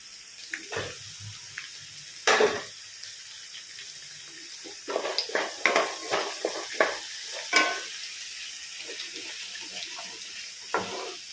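Ginger and green chilli sautéing in a pan for ven pongal, a soft steady sizzle broken by a run of sharp scraping and clinking stirs, close and clear with no talk.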